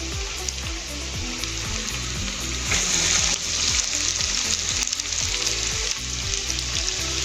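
Corn kebabs fry in a pan with a steady, close, loud sizzle and crackle, with occasional stirring or scraping underneath throughout.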